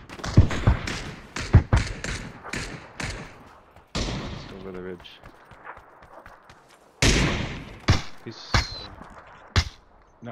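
PUBG gunfire rings out in a squad match as a string of sharp, loud shots, some in quick bursts and others spaced apart, mixed with game effects while players talk over it.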